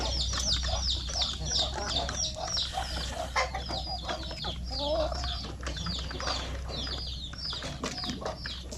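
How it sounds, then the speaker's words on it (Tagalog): Native chickens on a farm clucking repeatedly in overlapping bursts, with occasional wing flaps and a constant low hum beneath, near and moderately loud. "dami na po natin mga manok"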